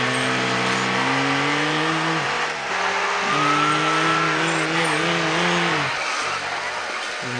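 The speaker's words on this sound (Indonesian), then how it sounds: "Polisi tidak bisa mengimbangi kecepatan mobil balap ini" Race car engine from a video game chase with police, a loud steady engine drone whose pitch holds, dips and climbs again as the car speeds along, with game sound effects layered over it.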